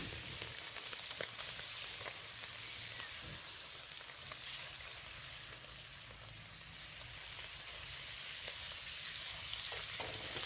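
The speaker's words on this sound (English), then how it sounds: "Got to get it heated up before you can get a sizzle, guys" Wild boar meat sizzling in a hot pan in a back garden, a steady hissing fry with occasional stirring scrapes and pops, close and continuous without talk.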